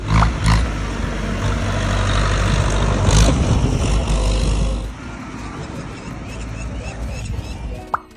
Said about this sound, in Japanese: なんだかすごい音の車がやってきました。